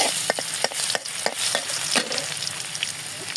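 Chopped garlic sizzling in a hot wok, a steady frying hiss broken by sharp scraping and stirring knocks, close and with no voices.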